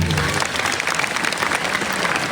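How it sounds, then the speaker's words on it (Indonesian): Audience applause after a preacher's religious talk at a dakwah gathering in Aceh, a dense, steady wash of many hands clapping at a moderate distance, with no talk over it. "beri tepuk tangan dulu untuk Tuku Habibie."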